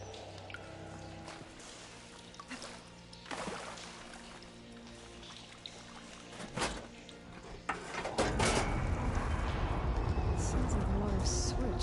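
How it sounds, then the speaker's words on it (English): In Horizon Forbidden West, rushing water surges in loudly near the end after quieter drips, machinery clanks and a few thuds. It becomes a steady, broad flowing wash. "Sounds like the water's switched."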